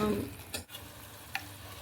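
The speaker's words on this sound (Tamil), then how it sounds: "இது எல்லாமே நல்லா வதங்கணும்." Biryani masala sautéing in a pan, a soft sizzle with a couple of brief scraping stirs, heard close and fairly quiet.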